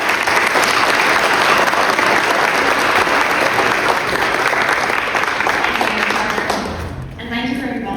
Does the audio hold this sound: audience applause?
yes